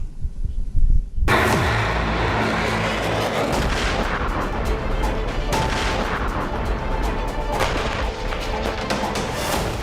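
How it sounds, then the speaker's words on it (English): Heavy, continuous rumbling booms of airstrike and rocket explosions in the Israel-Hamas war, loud and rolling one into another, with sharp cracks over a dense roar. "You can hear explosions. There are rockets landing nearby."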